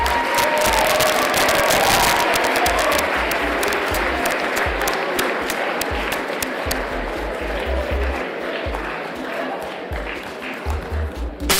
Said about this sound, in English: Please join me in a round of applause to recognize the team in the inaugural season.